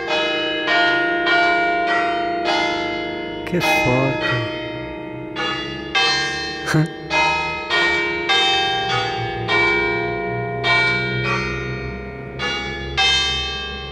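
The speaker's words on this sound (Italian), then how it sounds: "senti le campane a musica" Church bells ring out a melody, struck notes following one another in a steady tune, loud and resonant; a voice briefly exclaims over them.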